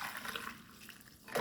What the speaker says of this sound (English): I'm just straining off my tea